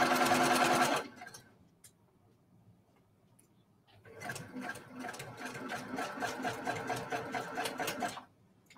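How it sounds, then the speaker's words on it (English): Sewing machine stitching big quilt blocks together: a brief loud run, a quiet pause, then a longer steady burst of rapid mechanical clatter close by, with no talking. "is sewing these big blocks together"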